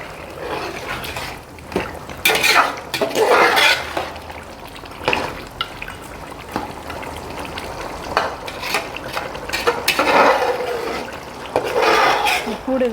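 A spoon stirs beef curry in a pressure cooker, giving repeated scraping, clinking strokes against the metal pot with a soft bubbling sizzle underneath, close and steady throughout.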